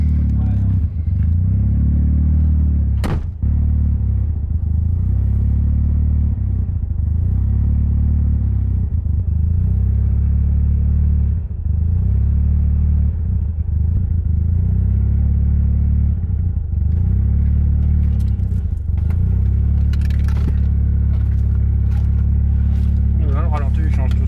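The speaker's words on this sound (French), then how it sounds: "Le ralenti il change tout seul." A Peugeot 205 RC engine idles roughly, its steady low rumble rising and dipping unevenly as it hunts and threatens to stall, with people talking nearby.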